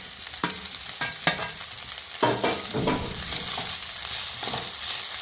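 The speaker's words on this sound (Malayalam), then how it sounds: "അതിലേക്ക് നമ്മൾ കുറച്ച് തേങ്ങാപ്പീര ചേർത്ത് കൊടുക്കുന്നു." Grated coconut stirred into cooked quinoa in a pan, a low sizzle running under repeated scraping strokes of a spoon, close and moderately loud, with no talking.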